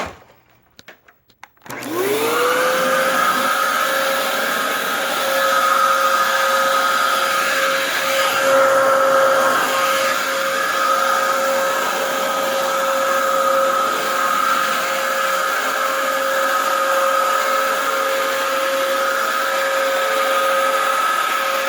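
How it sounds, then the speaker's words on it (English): A Dyson DC07 vacuum cleaner clicks on and spins up, then runs steadily indoors with a loud, constant whine that shifts slightly as it moves across an apartment room floor. "So vacuum my room a little bit."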